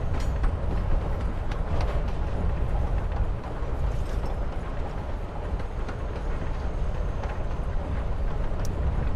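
A train rolls along in Life is Strange: Before the Storm, a steady low rumble of the moving carriage with faint clatter and rattles throughout, no voices.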